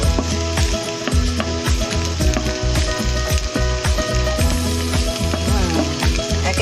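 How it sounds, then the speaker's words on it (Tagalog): Garlic sautéed over medium heat until golden for adobo estofado, giving a dense continuous sizzle and popping crackle with some stirring, loud and close with no talk. "saute the garlic just in medium fire until it is golden brown."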